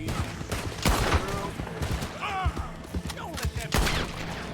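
Gunfire in the video game Red Dead Redemption 2, a series of sharp, loud shots spread irregularly across the passage, with some ringing tones between them.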